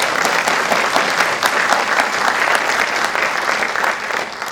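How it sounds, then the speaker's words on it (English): Audience applause at a ministry honors event, a full, even wash of many hands clapping at steady volume from start to finish. "So yes, you can applaud that, because that's just the fact."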